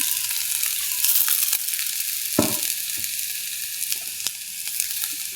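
Chopped kohila leaves fry in a hot pan with a steady close sizzle and occasional stirring scrapes, no voices.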